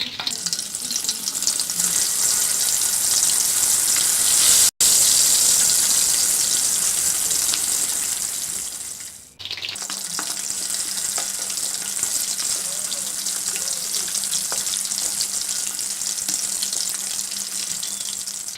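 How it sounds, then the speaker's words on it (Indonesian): Chicken pieces frying in hot oil for Indonesian ayam kremes, a loud continuous crackling sizzle with a brief break midway before the bubbling resumes. "Kita goreng ayamnya."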